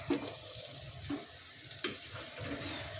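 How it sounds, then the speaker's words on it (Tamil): Curry leaves fry for Pallipalayam chicken in hot oil, a soft continuous sizzle with a few light spoon clinks and scrapes at intervals, close and quiet. "கருவேப்பிலை போட்டுக்கலாம். எல்லாம் வறுக்கலாம்."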